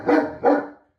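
Two loud, close dog barks in quick succession from a dog at home, the second following about a third of a second after the first, then silence.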